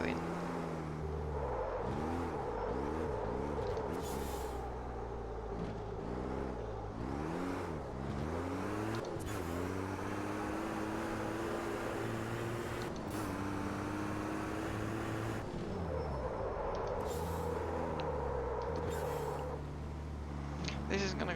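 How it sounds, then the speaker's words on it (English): Racing truck in the Automobilista 2 game, its engine rising and falling through gear changes, with the front tyres squealing through corners, steady and close, while someone talks over it. "putting more weight on the front tyres, which are already squealing"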